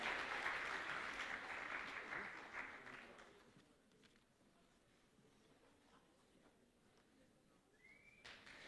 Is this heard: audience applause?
yes